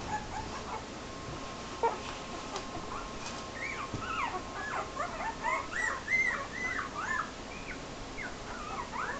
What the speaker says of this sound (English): Puppies, puppies everywhere.